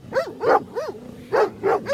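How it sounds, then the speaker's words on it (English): A dog on a beach at Limestone Bay gives five short, close barks in an uneven rhythm, each a quick yip-like bark with a small gap between, and no talk. "I just met this dog today, but he's a very good dog"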